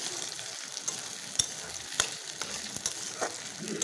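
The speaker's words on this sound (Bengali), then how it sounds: "এটা দিয়ে দেবো টমেটো কুচি। এটাও অল্প একটু নেড়ে" Chopped tomato sizzling and being stirred in a pan with oil while cooking rooster curry, a steady soft frying hiss with occasional clicks and scrapes of the spoon against the pan.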